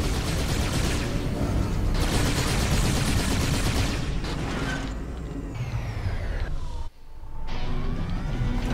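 Rapid weapon fire from a sci-fi shooter, Halo 2 Anniversary, rattles in dense bursts over continuous mechanical game noise. It stays loud throughout and dips only briefly near the end.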